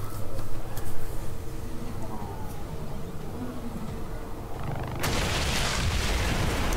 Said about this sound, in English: and it did explode, that's what I was worried about